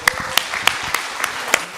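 Applause from an audience at a book launch event: a sparse, short run of separate, evenly spaced claps rather than a full ovation.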